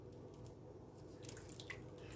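Organic coconut oil being poured into a turmeric sugar scrub mixture makes soft, faint wet drips and squishy trickles, close and quiet, with no talking.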